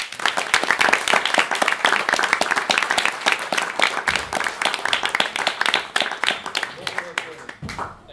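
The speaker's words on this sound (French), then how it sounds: "je vous prie de réserver un tonnerre d'applaudissements à Étienne Klein" An award-ceremony audience gives a long, loud round of applause for a science philosopher, dense rapid claps sustained for several seconds before tapering near the end.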